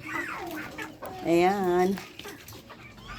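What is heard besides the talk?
rooster clucking while being fed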